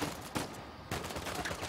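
Rapid bursts of gunfire in the video game Uncharted 4, two loud volleys separated by a brief pause, harsh and close.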